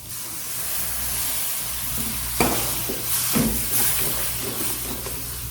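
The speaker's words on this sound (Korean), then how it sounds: "계속 눌러붙지 않게 저어가면서 농도를 잡아주시고요." A butter and flour roux with milk is stirred in a pan, making a steady sizzling hiss with soft scraping strokes and bubbling throughout.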